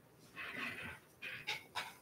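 A little puppy whimpering indoors, one drawn-out whine followed by three short yelps, close and moderately loud with no talking.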